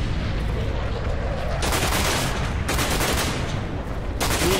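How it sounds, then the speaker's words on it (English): Heavy gunfire in Call of Duty Black Ops as soldiers shoot: loud, sustained automatic bursts close by, coming in dense waves with brief lulls between, continuous for the whole stretch. "Love how they shoot at him all in the middle"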